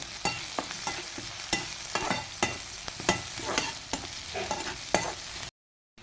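Maggi noodles with masala and a little added salt are stirred in a pot over a wood-fired stove, with continuous scraping and stirring strokes over a loud frying sizzle that stops abruptly near the end.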